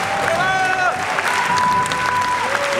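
Applause from a standing audience at a theatre premiere, dense and continuous, with voices talking and some whistling or tonal sounds over the clapping.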